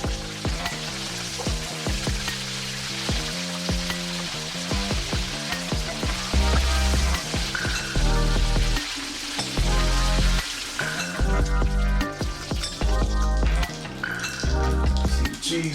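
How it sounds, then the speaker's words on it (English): Macaroni and cheese balls deep-frying in hot grease, a steady loud sizzle with dense crackling and sharp pops as melting cheese breaks through the breading, swelling and easing in waves with no voices. "when you hear the grease start popping, that's the cheese trying to come out of the breading"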